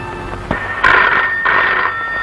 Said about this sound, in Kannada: ಫೋನ್ ಬಂತು ನೋಡು